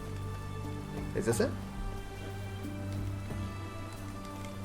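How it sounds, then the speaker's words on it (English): Rain falling in The Witcher 3 with the W3EE mod, a steady soft patter behind the game's ambient hum, while someone talks briefly over it. "It's freaking raining."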